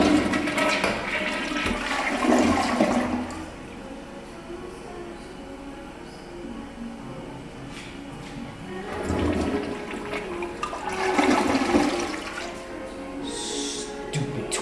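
A Glacier Bay dual flush toilet flushes twice, each a loud rushing surge of water that swells and drains away, with quieter trickling and refill noise between the flushes.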